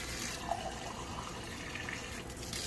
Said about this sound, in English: Now we're going to fill it up and test this water here.